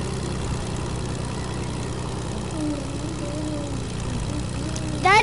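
A propeller airplane drones steadily in a video game, a continuous mid-level engine hum with a slowly wavering pitch that swells into a louder burst at the very end.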